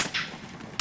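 A single sniper shot in Battlefield sounds as one sharp, loud crack. It is cut off at the very end of a brief burst of game noise.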